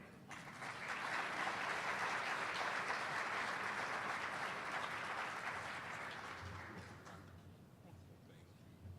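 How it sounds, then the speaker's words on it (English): A symposium audience breaks into sustained applause that swells after a second, holds thickly for several seconds, then fades gradually, with faint talk as it dies away. "Let's give Dr. Cartwright another round of applause."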